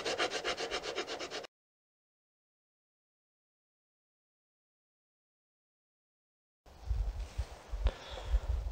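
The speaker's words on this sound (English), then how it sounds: "Switch over to this little rasp here." A small rasp files a wooden self bow in rapid, rhythmic rubbing strokes, close and scratchy, then a long stretch of total silence before rougher, uneven rasping and scraping resumes at the end.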